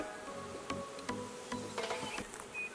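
Honey bees hum and buzz faintly around an open hive, a soft, continuous drone with several passing individual buzzes and no talking.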